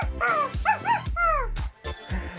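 A child mimics the call of a California quail with a series of rising and falling whistled, yelping vocal notes in quick bursts, loud and close, with no other sound around it.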